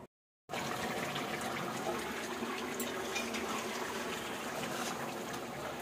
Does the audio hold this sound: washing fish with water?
yes